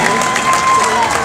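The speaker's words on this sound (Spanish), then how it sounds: "Vamos a aplaudirles mientras llegan." A crowd applauds and cheers as residents arrive to receive keys to a housing complex, a brief burst of dense clapping with voices shouting over it.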